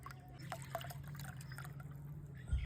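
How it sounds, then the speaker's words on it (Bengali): Hair oil is strained through a sieve, giving a quiet, close trickle with small scattered drips over a low steady hum, no voices. "একটা ছাকনার সাহায্যে সব তেল ছেঁকে নেব।"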